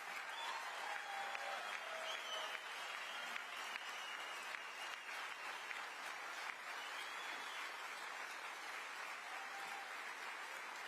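Sustained audience applause fills a large hall at the Iowa Faith & Freedom political gathering, a steady dense wash of many hands clapping at even loudness throughout with a faint crowd murmur.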